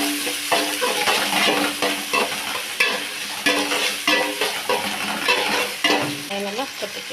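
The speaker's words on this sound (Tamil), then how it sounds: "அப்புறம் வந்து வெங்காயத்தை கொட்டிக்கலாம். நல்லா கிண்டிக்கலாம்." Onions frying in a pan with spices such as cinnamon, cloves, fennel and poppy seeds, stirred vigorously with repeated scraping strokes over a steady loud sizzle, close up, with no talk.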